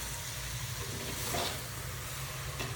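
Chana dal being stirred into a hot cooking pan with dill greens for a Maharashtrian vegetable dish, giving a steady, soft sizzle with faint scraping throughout.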